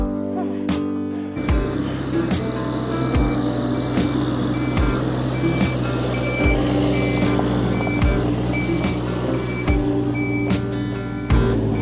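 A gravel delivery truck reverses on a trail in northern Spain, its loud, steady beeper repeating at an even pace throughout over a rumbling engine.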